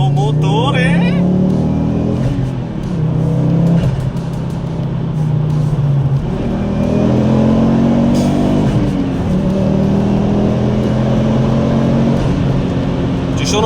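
A Ford Focus RS Mk2 five-cylinder engine revs repeatedly, a loud, close, throaty roar that rises and falls in pitch with each blip of the throttle, continuous throughout.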